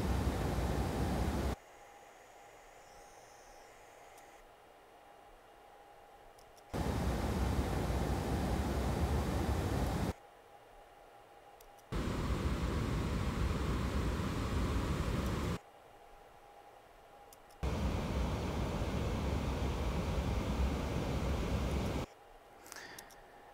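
Pink noise test signal from a loudspeaker measured at 1.6 meters from the microphone, in four steady broadband bursts of several seconds each, separated by quieter gaps of faint background hiss.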